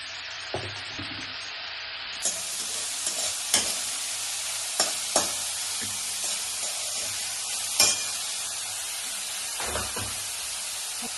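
Carrot, cabbage and capsicum stir-fried for veg momos in a hot pan: a constant loud sizzle with repeated spatula scrapes and knocks at an irregular pace, no talking.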